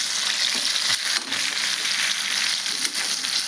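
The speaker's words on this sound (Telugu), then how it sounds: "పచ్చిమిర్చి అయితే బాగా వేగినాయండి" Green chillies fry in hot oil in a pan for a tomato-yogurt chutney, giving a steady, close, dense sizzle with faint stirring scrapes throughout and no talk.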